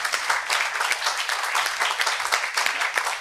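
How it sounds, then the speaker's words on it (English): An audience at a business school open day Q&A applauds in a dense, steady wash of many hands clapping close by, continuous for a few seconds with no talk. "So give yourself a round of applause"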